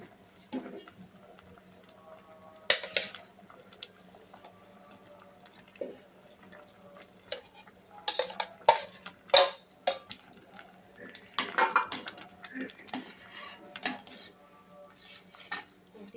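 Cooked rice goes into a pan for a dal-heavy khichdi, making a few sparse metallic clinks and soft scrapes of a spoon against the pan with quiet gaps between them.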